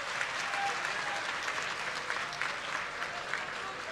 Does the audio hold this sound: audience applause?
yes